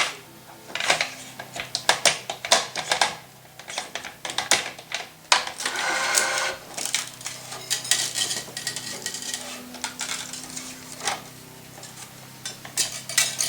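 Cross strings being woven through a tennis racket's main strings in a short-side around-the-world stringing pattern: a close, irregular run of light clicks, taps and rustles, busier in bursts, with no talking.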